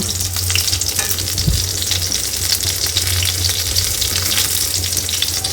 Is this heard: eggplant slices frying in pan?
yes